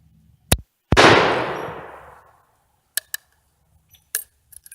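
Two sharp, close gunshots from a handgun with a triangular front sight at an outdoor shooting range, the second followed by a long fading echo, then scattered faint clicks and handling noises.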